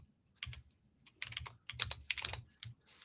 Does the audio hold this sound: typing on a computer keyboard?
yes